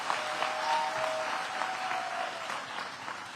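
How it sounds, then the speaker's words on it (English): Educators at a back-to-school welcome event give a warm round of applause, steady clapping from a sizable indoor crowd that holds evenly for a few seconds. "let's give yourselves a round of applause."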